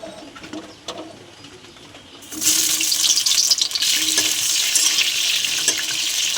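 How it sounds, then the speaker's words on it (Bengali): Pieces of pointed gourd go into hot oil in a kadai for a khichuri meal. A quiet stretch breaks into a loud, steady sizzle about a third of the way in, and the frying hiss carries on to the end. "তো পটলগুলো আমি ভেজে নেব।"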